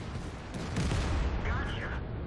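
A tank's main gun fires in World of Tanks on the Arctic Region map: one heavy, broad boom swells within a second, then a short rumbling tail under steady game noise.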